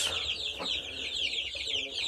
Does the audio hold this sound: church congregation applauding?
no